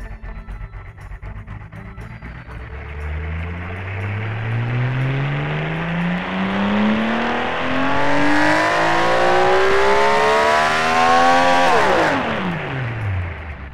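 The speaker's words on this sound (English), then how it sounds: "let's have a listen what the Boxer 6 race version sounds like right now" A Boxer 6 race engine with tubular exhaust in a video game revs up steadily, its pitch climbing smoothly over about eleven seconds to a loud high-rpm wail, then dropping sharply as the throttle is released. No one talks.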